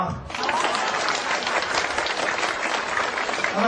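Wedding guests applaud steadily, a dense wash of clapping that fills the room for a few seconds without pause.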